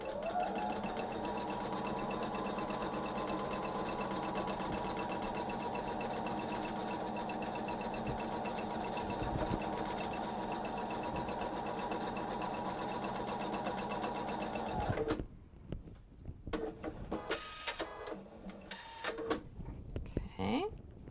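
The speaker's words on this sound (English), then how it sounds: "I like to use the edge of the sashing for my sewing. That way my presser foot has a straight line to follow." Sewing machine stitching quilt sashing for a table runner, running steadily and loud for about fifteen seconds before stopping abruptly, followed by quieter handling noises.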